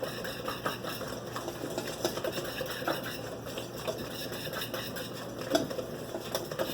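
Banana bread batter for a gluten-free loaf with chocolate chips being whisked in a bowl, a steady close scraping and stirring texture with faint clinks, continuous and fairly quiet with no talking.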